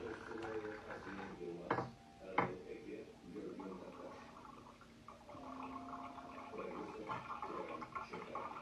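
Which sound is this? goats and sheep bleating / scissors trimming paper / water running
water running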